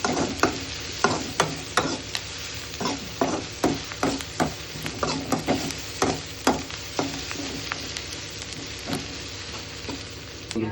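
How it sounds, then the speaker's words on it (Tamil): Curry leaves fry in hot oil with a steady crackling sizzle, punctuated by frequent sharp scraping strokes of a spoon against the pan. The sound stays close and even throughout, with no voices. "இதை நல்லா ஃப்ரை பண்ணிவிட்டு ஒரு ப்ரௌனிஷ் வர வரைக்கும் ஃப்ரை பண்ணலாம்"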